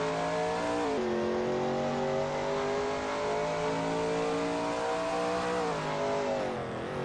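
Shelby Mustang GT350R engine racing at Barbagallo in a racing video game, a loud sustained roar holding steady at high revs with a couple of brief pitch shifts, alone and close.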